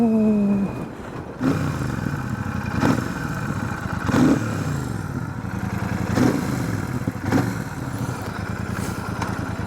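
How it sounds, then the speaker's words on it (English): A Royal Enfield Super Meteor 650 motorcycle engine blips in a series of about five sharp revs over a steady idling thump, each rise brief and close to the microphone. "that noise from the engine is very, very joyful."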